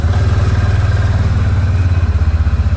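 A new 2023 Massimo T Boss 550 UTV with a full cab enclosure runs its engine close up, a loud, steady, pulsing idle with a rapid throbbing beat and a mechanical clatter.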